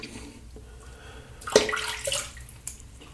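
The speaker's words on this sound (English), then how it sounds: "Okay, let's rinse off." Running water from a tap splashes as a face is rinsed after a shave with lavender shave soap, short close bursts of splashing and dripping over a quiet background.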